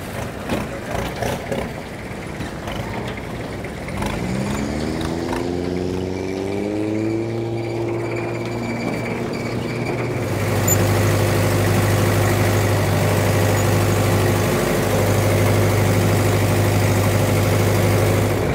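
A low, steady boat engine drone idles and then settles into a louder, constant hum, with a rising whine partway through; no talking. Recorded in Cambodia.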